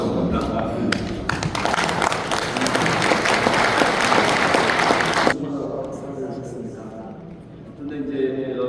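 Loud, dense applause from a lecture-hall audience at a climate and faith talk, sustained for about five seconds and then cutting off, with a voice talking before and after.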